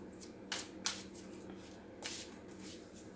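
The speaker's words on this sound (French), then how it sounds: "je voudrais tirer une carte de jeu tarot des anges gardiens" Tarot cards from a guardian angel deck are shuffled and drawn by hand, a few quick papery riffles and flicks close by, separated by short pauses over a quiet background.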